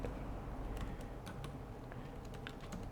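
Computer keyboard typing, close and steady, with scattered key clicks running throughout over a faint background hiss.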